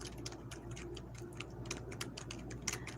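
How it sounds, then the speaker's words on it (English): Typing on a computer keyboard: a quick irregular run of light clicks and taps, fairly faint, over a low steady background hum with no talking. "let me get my handy dandy keyboard"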